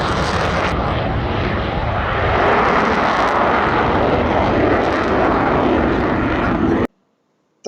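A French Rafale fighter jet roars past as a loud, broad engine rush building steadily for about seven seconds before cutting off abruptly, with no talk.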